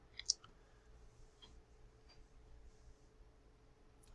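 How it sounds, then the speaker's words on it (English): A computer mouse click, one sharp, close tick near the start followed by a couple of faint softer clicks over quiet room hum. "Click that."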